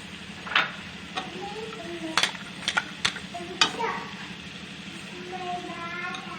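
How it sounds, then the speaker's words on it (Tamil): Ground spices, chicken 65 powder and garam masala, stirred through hot oil in a pan for prawn curry, with scattered scraping clinks of a spoon against metal and a soft steady sizzle underneath; a voice speaks briefly. "நல்லா எண்ணெயில் நல்லா கிண்டி விடுங்க. பச்சை வாசனை போகிற அளவுக்கு."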